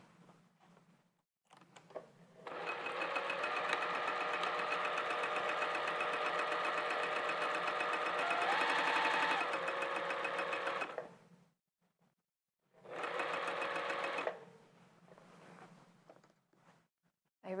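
A domestic sewing machine stitching fabric for a top runs in a steady, fast whirring hum for about nine seconds, then stops and restarts for a shorter burst, close and clear with no talk.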